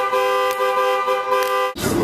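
A nearby car horn blares in one long continuous honk outdoors, loud and steady, then cuts off abruptly into street noise.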